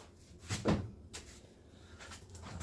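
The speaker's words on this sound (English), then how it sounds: "we'll just take this cover off" A cover being pulled off an oil-leaking part gives a single clunk and clatter, like a cupboard door, with a few faint handling knocks after it and no talk.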